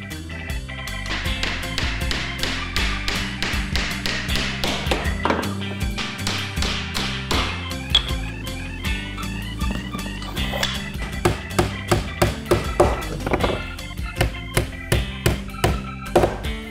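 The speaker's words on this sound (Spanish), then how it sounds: "Y los vamos a unir también con clavos de cabeza perdida." Finishing nails are hammered into wooden blocks for a radiator cover, close up: a long, steady run of sharp taps, some in quick bursts, getting denser and louder toward the end.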